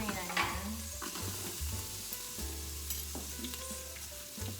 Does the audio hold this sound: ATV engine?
no